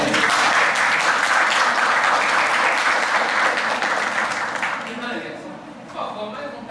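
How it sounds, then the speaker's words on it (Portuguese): An audience at a youth Bible school lecture event claps in a loud, dense round of applause that stays steady for several seconds, then thins and fades toward the end. "Uma salva de palmas para ele."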